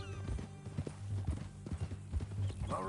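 Horse hooves clip-clop steadily at close range in the Red Dead Redemption 2 video game, a rhythmic run of clear hoofbeats with a brief whinny-like sound near the end.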